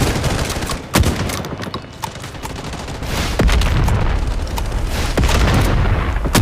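Rapid gunfire and booming explosions from the Bloodstrike shooter game, where an M1887 shotgun is in use, with loud sharp shots cracking over a dense, rumbling battle din.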